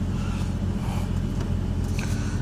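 A 1971 postal jeep's engine runs with a steady, fairly loud low rumble as the vehicle sets off, the drone even throughout with no talking.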